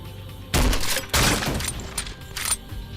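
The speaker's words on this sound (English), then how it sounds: "You can stake your own grenades." Grenades staked onto enemies detonate in the video game Painkiller: Revamped, giving a few loud, close blasts in quick succession, the first two heavy and the last sharper and shorter.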